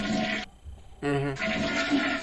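A toilet flushing in one quick rushing surge of water, loud and close, with a short gap in the middle and a low tonal hum near the end. Nobody speaks.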